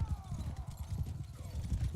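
Horse hooves in Mount & Blade II: Bannerlord clop in a steady galloping rhythm throughout, close and prominent, with a faint tonal whine drifting above.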